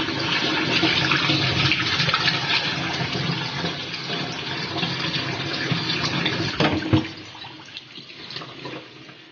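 Water pours steadily into a container for several seconds, loud and close, then tapers off near the end, with no talking over it.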